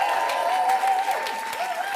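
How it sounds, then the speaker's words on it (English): A theater audience at an improvised musical show keeps up warm, continuous applause, with a sustained musical tone from the house band ringing underneath. "Keep that applause going for our incredible improvising technical and camera team!"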